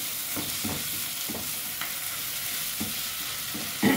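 Minced beef frying in a pan for spaghetti, a steady close sizzle with repeated scraping stirs of a spoon in an even rhythm and no talk.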